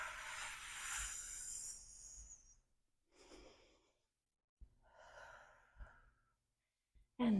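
Slow, audible breaths during a lateral splits stretching exercise: a long exhale sigh at the start, then softer inhales and exhales spaced apart with silent gaps, close and moderately loud.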